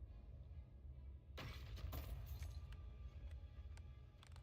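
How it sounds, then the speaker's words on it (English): Bone-shattering corpse destruction in the video game Path of Exile 2 gives a sudden crunchy, glassy crack followed by scattered brittle clicks and debris fragments, faint over a low ambient rumble. "The sound of bone shatter corpse destroying is, yeah, it's very, very satisfying."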